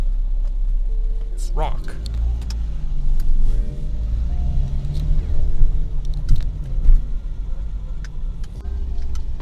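An Opel Calibra engine starts and settles into a low, steady idle rumble at close range, with a person speaking over it.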